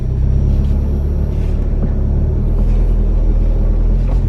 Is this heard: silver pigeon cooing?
no